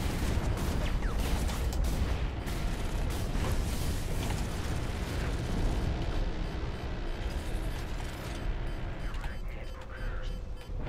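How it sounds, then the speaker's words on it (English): Chaotic gunfire and explosions in mech combat in the Hawken video game, a dense, continuous barrage of rumbling blasts and shots, loud throughout, with a voice speaking over it. "Stop shooting at me!"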